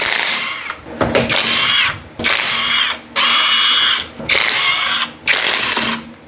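A power tool removes a wheel from an abandoned Porsche, giving several loud, close whirring ratchety bursts of about a second each, split by short pauses.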